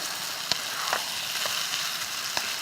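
Food stir-fries in a pan with oyster sauce and sesame seeds, giving a steady, close sizzling hiss broken by a few soft clicks from stirring, with no voices.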